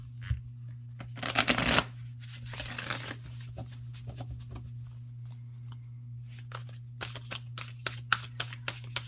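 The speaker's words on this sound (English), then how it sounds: "they're flexible enough to still kind of like shuffle them" Tarot cards being shuffled in quick riffling bursts, louder near the start, then lighter flicks and taps follow over a steady low hum.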